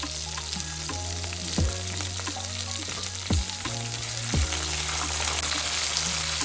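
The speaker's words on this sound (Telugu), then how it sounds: "ఇది వేగేటప్పుడే ఇవి కూడా వేగిపోతుంది ఫ్రెష్గా చెట్టు కోసుకొచ్చిన కరివేపాకండి" Fresh curry leaves and chopped green chillies fry in hot oil in a pan, a steady close sizzle with a few sharper crackles and spits as ingredients hit the oil, with no voices.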